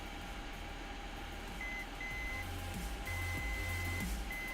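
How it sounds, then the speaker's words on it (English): Faint electronic beeping tones from a Dig-Quad v3 DIY electronics kit repeat in short bursts over a steady low hum and background noise, no voices present. "Can you hear the beeping now?"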